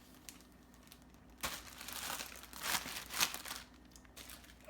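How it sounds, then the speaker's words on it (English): A plastic Ziploc bag being pressed shut crinkles and crackles in short, faint bursts close by, no talking. "close these Ziploc bags"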